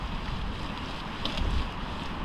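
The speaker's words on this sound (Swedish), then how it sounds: "Och det är mycket som fläktar." Steady wind rushing and buffeting across open, broken-up ice, loud and close, with a roaring gusty texture and no voices.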